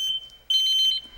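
A kitchen timer alarm in the indie horror game That Bitter Taste rings out as a sharp, high electronic beeping, a steady tone that swells into a loud pulsing burst of beeps before cutting off, with no speech.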